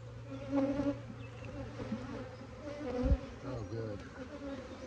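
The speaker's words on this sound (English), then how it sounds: "These bees are definitely at work." Honeybees buzz steadily around an open hive during an inspection, a close, continuous droning hum with a brief louder swell near the middle.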